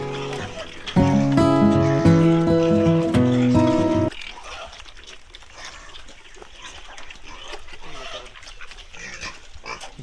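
Pigs on a farm in Assam grunt and squeal loudly while feeding on grain, with ducks and chickens joining in, a dense close burst for a few seconds before dropping to quieter scattered snuffling and clucking.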